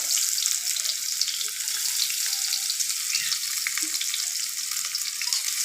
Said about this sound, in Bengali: পেঁয়াজটা ভাজা হওয়া পর্যন্ত অপেক্ষা করি